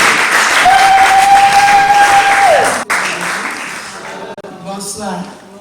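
A church congregation at a pastor's birthday service applauds and cheers loudly in a dense, sustained wave of clapping. A steady held tone rings over it at first, then the applause thins out while voices carry on.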